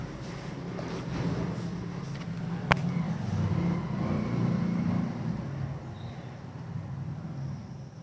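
A road vehicle passes outside, its low engine rumble swelling steadily for several seconds, then easing off, moderately distant, with no talk over it.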